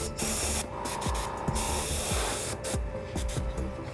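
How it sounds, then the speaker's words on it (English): A can of red spray paint hisses in loud, steady bursts with short pauses, sprayed first onto the back of a hand and then across a Battletech miniature dragon model, close up, with no talk. "Spray on the back of our hand."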